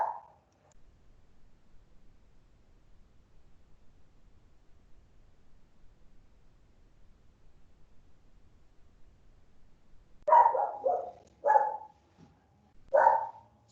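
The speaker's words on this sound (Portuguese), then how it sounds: "Se vocês estiverem escutando um cachorro no fundo, é minha cadela que está gritando aqui." A female dog barks in short bursts near the end, a few sharp barks with gaps between, fairly close and loud over a quiet indoor background.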